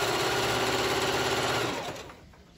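Sewing machine running a continuous rapid stitch along the edge of a slingshot thong, close and loud, then easing off and stopping toward the end, no voices over it.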